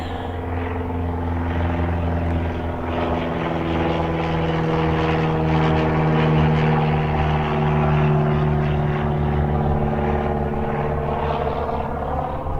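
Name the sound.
low flying propeller plane overhead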